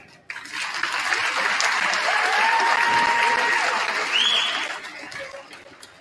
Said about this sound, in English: Let's start off with a round of applause